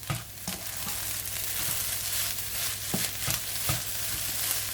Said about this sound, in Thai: นี่แหละพอแล้วคนให้เข้ากัน